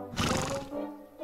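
A cartoon horse neighs once, a loud, bright whinny that rises and then trails off into a wavering tail, heard alone with no talk over it.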